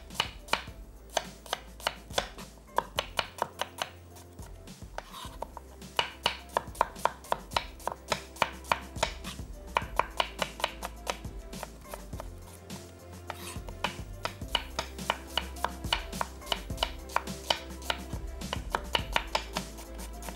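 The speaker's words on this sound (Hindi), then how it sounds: "3 अदद दरमियानी प्याज, इसको स्लाइस कर लेते हैं।" Three medium onions being sliced with a knife on a board, a fast steady run of close, crisp chopping strokes that goes on with only brief pauses and no talking.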